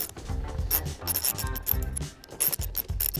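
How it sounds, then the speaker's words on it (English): Ratchet wrench undoing the four seven-millimetre bolts that hold the fog light on a JL Jeep, with rapid, close mechanical clicking in repeated bursts and brief pauses between them. "And now to undo the light, we need to remove the four seven-mill bolts."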